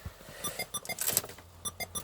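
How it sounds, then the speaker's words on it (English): Car radio beeping after being reset, a quick series of short electronic beeps with an irregular rhythm, fairly faint. "The radio's reset, so it's going a bit mental."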